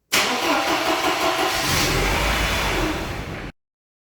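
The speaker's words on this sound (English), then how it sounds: "The car starts and stalls the very moment" A Mercedes with KE-Jetronic fuel injection and a vacuum leak at the air-flow rubber boot cranks, catches and runs roughly before cutting out abruptly after about three seconds, close and loud with no talking.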